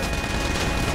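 Dense, steady gunfire noise in a video game, continuous and loud for the whole second with no pauses or talk over it.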